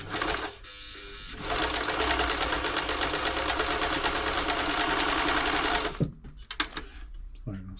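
A New Home 641 sewing machine, serviced after being seized, runs steadily sewing a zigzag stitch with a loud, close, even mechanical whir for about five seconds. It then stops into a few clicks and handling knocks.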